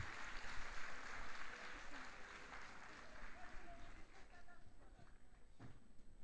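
An audience at a national Independence Day concert with children applauds as a renowned singer comes on stage. The clapping is steady and somewhat distant, with murmuring voices in the crowd.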